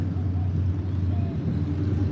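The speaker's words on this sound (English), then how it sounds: "Oh, it's a big old motorcycle." Big motorcycle engine rumbling and revving in a busy Austin street during SXSW, a loud low steady drone close by with traffic and crowd noise around it.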